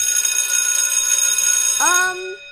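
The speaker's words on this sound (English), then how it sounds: "Hit the bell." A school bell for a class change rings loudly and steadily with a bright electronic tone, then drops in pitch and cuts off sharply after about two seconds.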